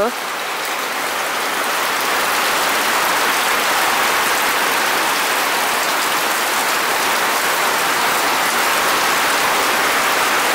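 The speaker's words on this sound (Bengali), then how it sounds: "প্রচুর জোরে বৃষ্টি নেমে গেছে, অনেক জোরে।" Heavy rain pours down in a village during a storm, a loud, dense, unbroken hiss of drops on surfaces that stays constant throughout.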